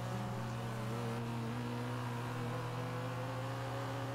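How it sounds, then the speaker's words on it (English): A low, steady car engine drone from a 500 HP drag build in the racing game Forza Horizon 3, a constant humming rumble with faint harmonic overtones, idling or holding revs without sharp changes. "I just hear that low engine go"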